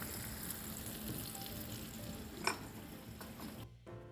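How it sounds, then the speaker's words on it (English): Meatballs fry and brown in a pan with a quiet, steady sizzle and one brief click partway through. The sizzle thins out near the end. "I'm going to start adding the meatballs to the pan, allowing them to cook and brown evenly on the outside first"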